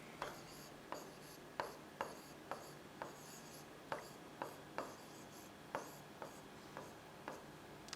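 Pen strokes on paper while notes are written by hand, a quiet, steady scratching broken by regular sharp taps roughly every half second, close and alone with no talking.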